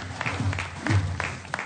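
Spectators at a Pakistan vs India T20 Asia Cup 2025 cricket match applaud a reverse sweep, a short burst of broad, rustling clapping with a few voices mixed in.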